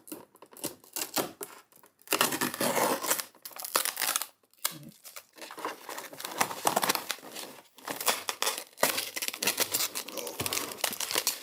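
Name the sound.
peeling protective plastic film off LED panel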